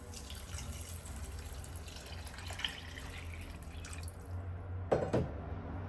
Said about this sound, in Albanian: Dhe ja shtoj kështu 1 litër me ujë.